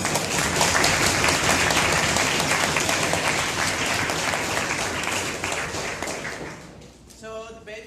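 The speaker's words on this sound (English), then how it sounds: "So let's give a huge round of applause to the judges at this competition." A debate competition audience at a closing ceremony gives the judges a big round of applause, a dense and sustained wall of clapping that gradually thins and fades near the end, where a voice briefly comes through.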